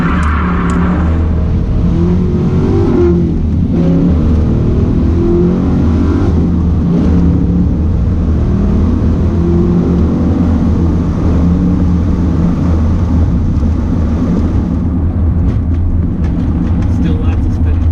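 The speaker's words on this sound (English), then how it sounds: "Go 0 to 60. Let's see what it's got." A Foxbody Mustang accelerates hard from a standstill toward 60 with its tires spinning, giving a loud sustained engine roar with a steady rumble that continues through the whole run.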